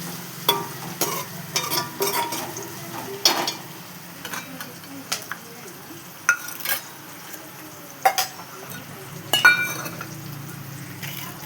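Oil frying in a pan before chicken goes in, a low sizzle broken by sharp metallic stirring clinks and scrapes at irregular intervals, no voices.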